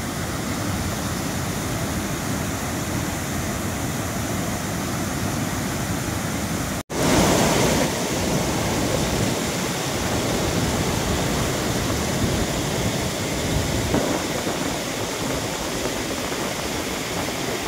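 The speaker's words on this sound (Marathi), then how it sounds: "पाणी लय जोरात आहे. कसं वाटलं बघा धबधबा." Siddhewadi waterfall in full monsoon flow, a loud, steady broadband roar of heavy falling water that fills the whole clip without a break, close and constant, with no voices.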